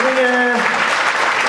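Applause at a national business conference in Poland, a dense crowd clapping loudly with a voice briefly carrying over it at the start.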